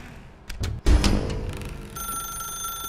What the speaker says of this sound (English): now the phone rang